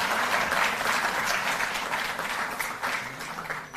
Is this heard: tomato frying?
no